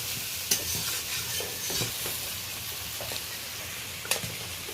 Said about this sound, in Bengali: চিংড়ি মাছটা বেশ ভালো করে দু তিন মিনিট ধরে নেড়ে একটু ভেজে নেব